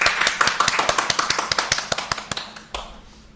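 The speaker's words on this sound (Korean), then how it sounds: "박수 부탁드리겠습니다." A small audience at an interfaith dialogue event claps with sharp, distinct hand claps, mostly close, evenly spaced and fading out after a few seconds.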